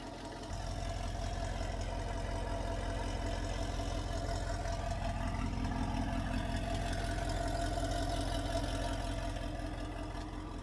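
A W211 Mercedes E55 AMG with a 5.4-litre supercharged V8, long tube headers and CLS 63 mufflers idles steadily and close by, a deep, even rumble with no talk over it.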